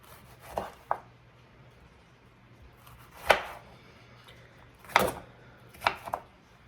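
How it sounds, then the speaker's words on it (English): A knife roughly chops a tomato on a cutting board, giving a handful of faint, irregular thuds with quiet pauses between them. "Then I'm going to give my tomato a rough chop as well."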